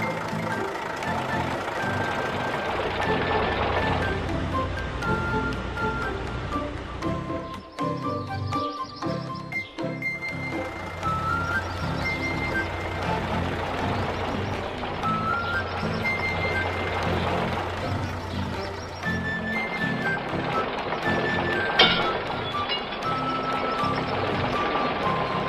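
Cartoon truck backing up beside a construction crane, with steady repeating reversing beeps over a busy animated soundtrack of machinery and music, continuous throughout.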